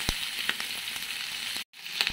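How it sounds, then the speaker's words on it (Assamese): Pork frying in oil with dry chilli paste, a steady hiss of sizzling broken by soft stirring scrapes and a brief dropout near the end. "দেখিবলৈ পাইছে গাহৰিৰ পৰা কেনেদৰে তেল বিৰিঙি উঠিছে"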